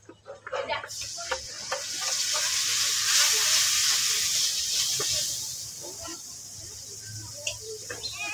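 Spice paste added to fried onions in a pan with a little water, giving a bright, steady hiss and sizzle that swells mid-clip, with a few clatters of stirring and faint voices in the background.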